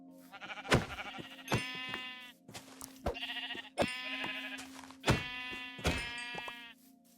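Sheep in a farming video game bleat repeatedly: about half a dozen clear, wavering calls in an irregular rhythm, some overlapping, with soft thumps between them over a low steady hum.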